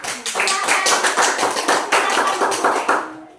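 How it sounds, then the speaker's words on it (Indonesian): A classroom of students claps for a group in quick, rhythmic bursts of sharp, close hand claps that end abruptly. "Tepuk tangan untuk kelompok 2."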